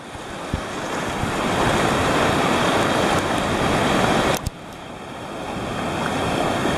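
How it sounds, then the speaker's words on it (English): Turbulent ocean surf breaks at a beach, a loud continuous roar of churning water with wind buffeting the microphone. "See how the water is getting more turbulent now?"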